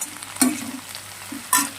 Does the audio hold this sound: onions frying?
yes